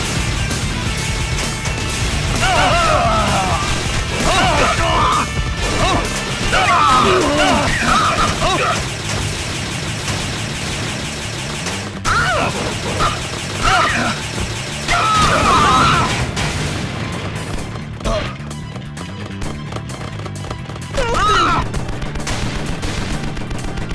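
Rapid video game gunfire from a spread shot weapon crackles in dense bursts with crashing impacts, while a voice talks over the loud action.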